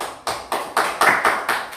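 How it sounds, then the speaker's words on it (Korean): Several sharp hand claps in a quick, even rhythm at a church youth service, about seven in under two seconds, close and loud. "박수 한번 쳐주자"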